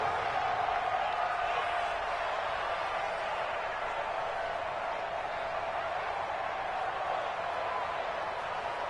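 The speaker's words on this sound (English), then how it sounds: "The crowd getting into it as we come up on a big 3rd down." A stadium crowd in an American football video game, Jets against Bills, roars steadily on a big third down, a dense continuous wash of cheering with a faint underlying tone and no clear breaks.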